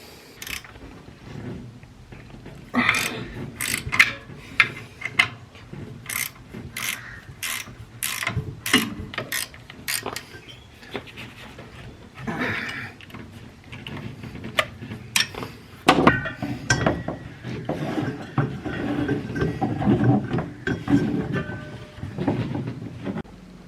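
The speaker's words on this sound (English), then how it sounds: "after a bit of a struggle, the belts are off" Worn belts are worked off the engine of an MF40 combine harvester with hand tools: repeated sharp ratcheting clicks and metallic clanks come close by in irregular bursts, mixed with scraping and handling noise.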